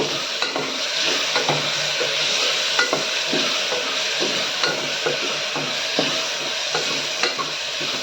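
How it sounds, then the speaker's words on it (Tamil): Tomatoes sautéing in a pan for rice and lentil dish, a constant close hissing sizzle punctuated by regular clicks and scrapes of a spoon stirring against the pan, with no voices. "இப்போ தக்காளி நல்லா வதங்கி வந்திருக்கு."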